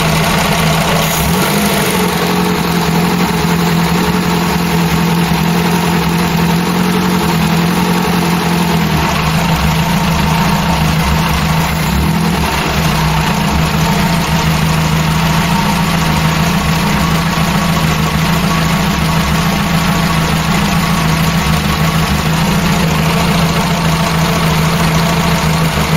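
A rebuilt Ford Cortina GXL engine idles steadily and loudly up close, a constant low rumble with an even, smooth rhythm the whole way through and no voices.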